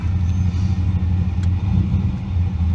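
A turbocharged LS V8 fitted with a Borg Warner turbo idles just after starting, giving a loud, steady, close low rumble with a constant throb and no revving.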